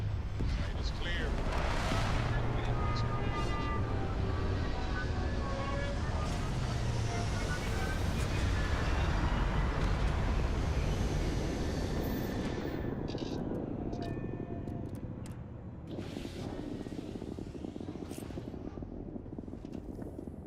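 Spaceship touching down in the Starfield video game, a loud, continuous low rumbling roar with thruster hiss that holds steady for most of the stretch before easing off, with voices talking over it.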